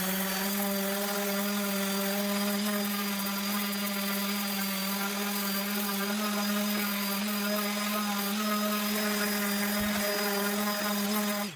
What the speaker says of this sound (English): I used the wire wheel on a drill, and I got into all these pits and got them all cleaned out